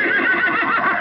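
A horse gives a single short whinny, clear and fairly close, with no talk over it.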